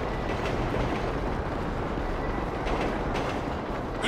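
A train rumbles past in a video game heist shootout, a steady heavy rolling roar with low rumble and faint rhythmic rail clatter, continuous at moderate loudness with no voices.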